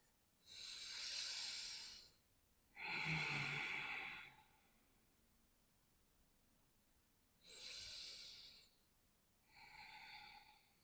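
Slow, deep breathing in lizard pose during an evening yoga routine: four close, airy breaths, inhales and exhales separated by quiet pauses, with no talking.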